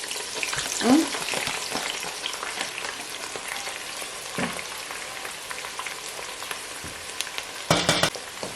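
Steady crackling sizzle of onions frying in hot oil, with occasional louder pops and a brief stirring scrape near the end.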